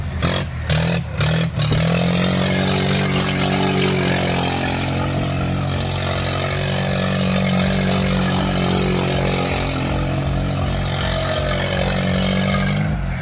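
A Swaraj 575 farm tractor revs hard during a stunt, its engine roaring steadily and close for most of the stretch, with a few clattering knocks at the start.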